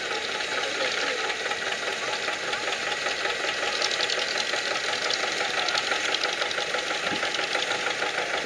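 A tractor's 6.7-litre engine, working with a crop sprayer at an agricultural machinery show, runs steadily with a continuous knocking, mid-pitched drone that stays even and fairly loud throughout.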